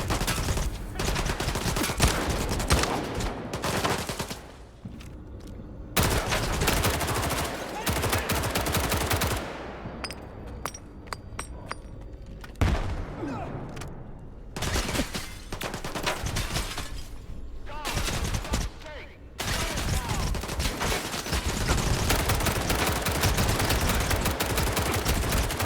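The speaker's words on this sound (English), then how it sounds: "They're shooting through the walls, I swear." Heavy gunfire in the video game STALKER 2: long, loud bursts of automatic fire in a close exchange, broken by a few short lulls before the shooting resumes.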